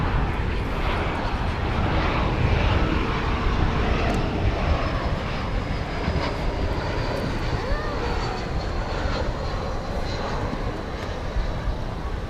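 An American Airlines jet takes off from a runway at DFW Airport, its engines producing a loud, steady, broadband roar that fills the whole span with a faint high whine above it.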